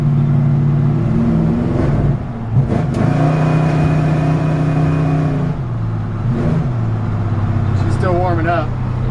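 A 1966 Chevy C-10 Stepside pickup's engine revs and pulls up through rising gears, loud and close with the pitch climbing, dipping, then climbing again, and a brief whine near the end.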